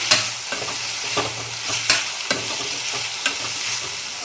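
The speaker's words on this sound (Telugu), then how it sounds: "ఒకసారి కలిపేసుకొని ఇంకా ప్లేట్ అయితే మిక్స్ చేద్దామండి" Onion mixture frying in a pan hisses steadily while a spoon stirs it in repeated scraping strokes, with no voices.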